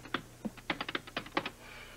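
Fingers tap a computer keyboard in a quick burst of about a dozen crisp, close keystrokes at an uneven rhythm, with no voices.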